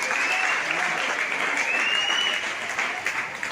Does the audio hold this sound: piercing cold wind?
no